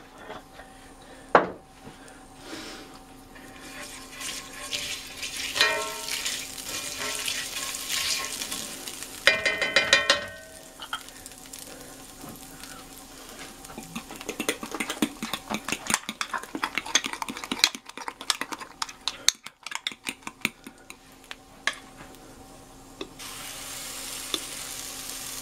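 Chili corncakes fry in olive oil, a steady sizzle with scraping and stirring of a utensil in the pan, sharp clinks and clatters of cookware throughout, and no talking.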